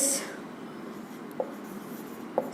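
A pen or marker scratches softly while notes on angle measurement in degrees are written, faint continuous writing with a couple of small taps and a voice speaking over it.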